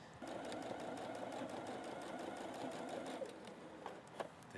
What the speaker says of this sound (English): we're going to top stitch about 1/8 of an inch from the seam on both sides of the seam